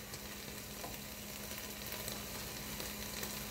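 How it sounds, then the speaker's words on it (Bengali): Chicken frying in a pan for a sandwich, a steady dense sizzle holding at an even, fairly quiet level throughout, with no voices. "চিকেনটা বসিয়ে দিচ্ছি।"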